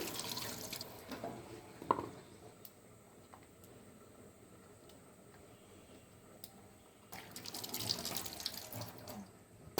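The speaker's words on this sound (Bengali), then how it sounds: "রসুন, পেঁয়াজ, কাঁচামরিচ ধুয়ে নিলাম।" Running tap water splashes over garlic, onions and green chillies being washed, strong at the start and end, with softer drips and trickling in between.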